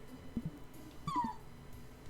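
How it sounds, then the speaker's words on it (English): A small puppy whimpers in the video game The Outbound Ghost, a brief rising-and-falling whine near the middle over quiet game ambience and a few soft thumps. "Oh, little puppy."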